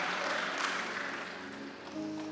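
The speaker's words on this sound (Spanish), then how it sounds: "Dele fuerte ese aplauso a Dios y póngase de pie en esta hora." A church congregation claps together during a worship service, a brief mid-loud burst of applause that gradually thins, with faint voices mixed in.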